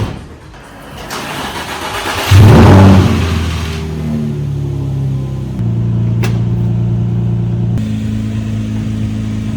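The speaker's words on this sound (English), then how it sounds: "Now I guess it's time to turn on the car." A used car's engine cranks briefly, catches with a loud rev, then settles into a steady idle that continues for several seconds, with a sharp click partway through.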